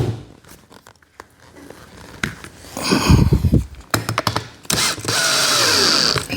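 A power drill drives a seat cover screw into an EZ Go golf cart seat in several short whirring bursts, close and fairly loud, with scraping and handling noises between them.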